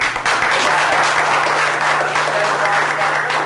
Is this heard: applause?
yes